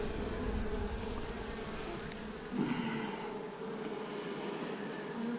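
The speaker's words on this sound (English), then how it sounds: "Let's fill these boxes with bees" Honey bees hum steadily around hive frames as they are loaded into a box, a continuous close buzzing with a brief louder swell midway, no voices.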